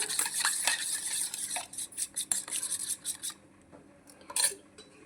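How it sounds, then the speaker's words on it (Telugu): A paste mixed with water for okra soup is stirred and scraped in a vessel with a utensil, giving rapid gritty rasps and light clinks that thin out into sparser scrapes. "దీంట్లోకి వాటర్ వేస్తే దీన్ని ఒక పేస్ట్లా చేసుకోవాలి."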